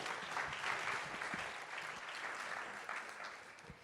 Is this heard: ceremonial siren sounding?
no